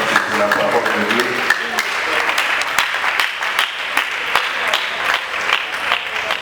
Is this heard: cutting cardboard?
no